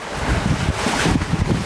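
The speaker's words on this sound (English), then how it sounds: "Absolutely hammering now. It's 25 knots of wind." Strong 25-knot wind roars over a sailboat at sea in choppy, sloppy water, a loud steady rush with gusting buffets and wave wash and no voices.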